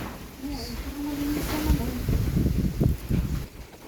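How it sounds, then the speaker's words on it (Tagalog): Strong wind rumbles and buffets outdoors in uneven low gusts, with a person speaking through it. "Lakas ng hangin, oh."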